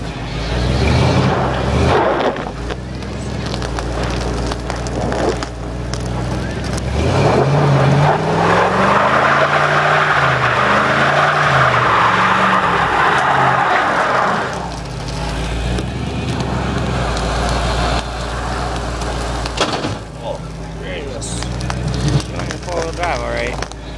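A 1983 Ford Bronco in two-wheel drive revs and drives on ice, its engine rising and falling in long sweeping pitches as it spins and slides, with people talking inside the cab throughout.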